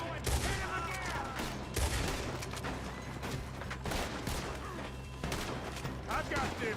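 Gunfire in the video game Red Dead Redemption 2: loud, dense volleys of rapid shots crackle one after another without pause, with sharp bursts piling over each other.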